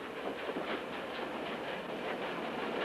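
A steam train runs on rails, its wheels giving a faint, steady clickety-clack rumble heard from a distance for a few seconds.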